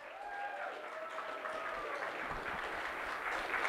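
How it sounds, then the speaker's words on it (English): A crowd at a convention opening ceremony applauding costumed cosplayers, a continuous moderate wash of clapping heard from a distance, with faint voices mixed in. "So give them all a big round of applause."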